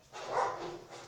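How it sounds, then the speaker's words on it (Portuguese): A neighbourhood dog barks once from a short distance, a single drawn-out bark that rises and fades over a quiet room. "na vizinhança aqui tem uns animais que ficam latindo"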